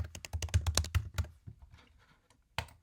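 Rapid keystrokes clatter on a computer keyboard in a quick burst, thin out into a few scattered taps, then one last cluster of keys lands before the sound stops.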